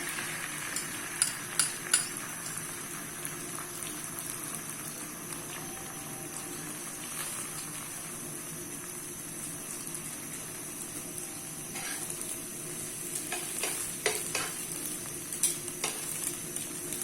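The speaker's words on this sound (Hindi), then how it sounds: "अंडे को हमने अच्छे से फ्राई कर लिया है।" An egg fries on a greased hot tava in oil, giving a soft, steady sizzle with scattered faint crackles and light scraping of a utensil, quiet and close, with no voices.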